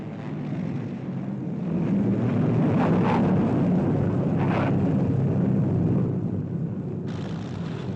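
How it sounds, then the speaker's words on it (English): Steady, loud roar of British propeller warplanes droning overhead, returning from a strike in wartime 1944, with a couple of louder swells as planes pass, no voices. "British planes return from the strike"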